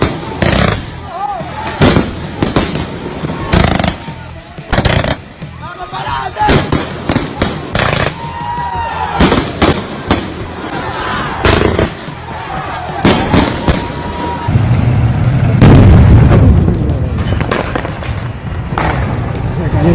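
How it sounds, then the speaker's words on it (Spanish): Sharp explosive bangs and firecracker-like blasts crack repeatedly amid a street protest in Caracas, with crowd noise and shouting between them and a heavier rumbling burst later on. "Venezuela, fuerte explosión deja varios policías heridos en Caracas."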